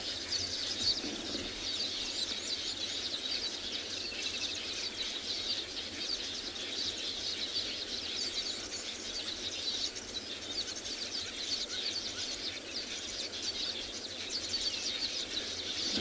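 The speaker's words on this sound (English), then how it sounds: "especially looking or listening to these birds" Birds chirp and twitter continuously at a waterside in South Africa, including a black crake, a dense, fairly faint chorus over a steady outdoor hiss.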